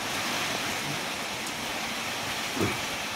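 Heavy rain and wind from cyclone Montha, a dense continuous roar of downpour and gusts at steady loudness with no voices.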